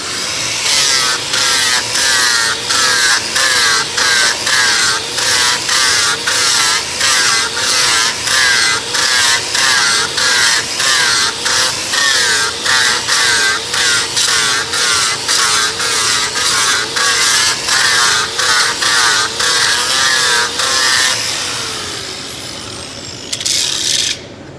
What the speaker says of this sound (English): High-speed grinder, 24 grit.